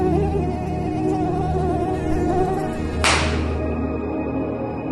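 An Aedes aegypti mosquito whines with a thin, steady buzz, close and continuous, over a busy background, cut short by a sharp slap before a quieter tail.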